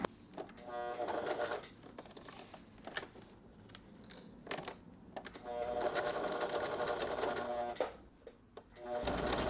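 A sewing machine stitches the front lining of a bolero in several runs of rapid, steady whirring, stopping briefly between passes while someone speaks over it.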